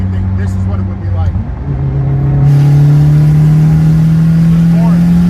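A stock 2005 Dodge SRT-4 with no stage upgrades: a steady, loud, close engine drone whose pitch climbs slowly as it revs, running alone for several seconds.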